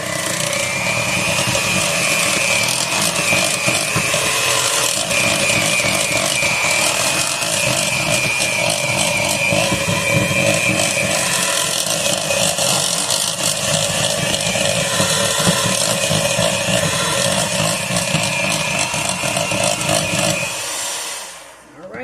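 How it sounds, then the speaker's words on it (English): An electric stand mixer runs steadily at close range, beating 20 tablespoons of butter into croissant dough with a loud, continuous motor whir for about twenty seconds before it winds down at the end. "And then we're going to run this mixer again."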